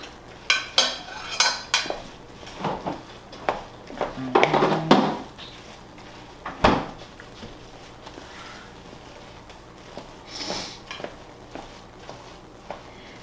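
Ingredients are mixed with butter in a bowl, with a run of clinking spoon scrapes and knocks against the dish that thin out into sparse taps, close by.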